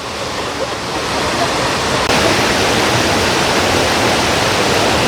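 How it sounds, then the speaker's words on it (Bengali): The Wei Sawdong waterfall at Cherrapunji roars in a dense, continuous rush of falling water, loud and close, growing slightly stronger partway through with no clear voices. "অপূর্ব সুন্দর এই ওয়াটারফল, যেমন স্রোত তেমন তার আওয়াজ"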